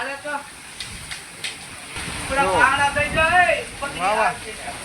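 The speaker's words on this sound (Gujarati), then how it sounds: "ઠેઠ ધોધમાર વરસાદ આવી ગયો છે" Heavy pouring rain in a windy storm lashes a village veranda, a dense continuous hiss that swells louder midway, with voices talking loudly over it.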